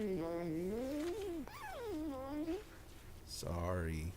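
The cat in the video game Stray lets out long, wavering, strained meows, three drawn-out calls rising and falling, fairly close, with a person briefly speaking near the end.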